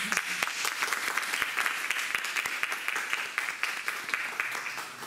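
An audience claps at the close of a seminar on water and democracy in Asunción, Paraguay: steady, dense applause from many hands, moderately distant, continuing for several seconds.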